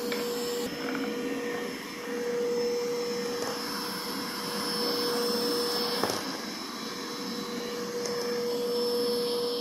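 A Dreame X50 Ultra robot vacuum runs on a long-pile carpet, giving a steady, close whir with a high motor whine and brush hum. A few soft bumps are heard as it works, and no one speaks.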